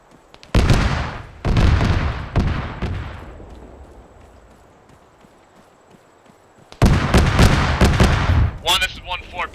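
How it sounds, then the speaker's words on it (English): Autocannon fire in the video game ArmA 3: heavy booming bursts of shots, a few rapid impacts, then a fading rumble, then a loud dense volley that resumes with a sharp rattling finish. "If you're in cover from this autocannon, stay in cover."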